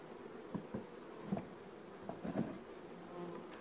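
Honeybees buzz around a nucleus hive outdoors, a soft low drone with several brief louder passes as individual bees fly close.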